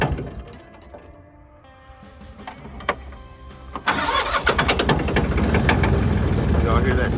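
A Branson farm tractor's Cummins diesel engine with a clogged DPF cranks and starts, then runs loud and rough with a rapid knocking rhythm, close by while someone talks.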